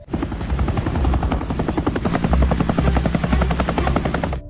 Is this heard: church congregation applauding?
no